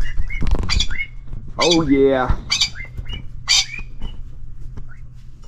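A yellow golden pheasant gives its spring screech: a harsh, buzzing, strongly harmonic call in the middle of the clip, joined by shorter sharp squawks. A person speaks briefly near the start, and a low steady hum runs underneath.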